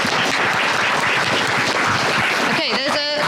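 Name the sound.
applause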